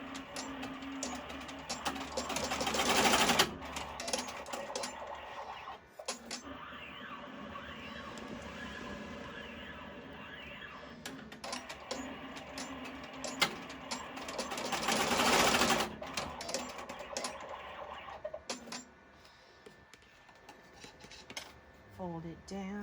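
An embroidery machine stitches a pleat onto an in-hoop face mask, giving a rapid mechanical stitching rattle. Louder surges come and go over quieter running, close by, with no talk.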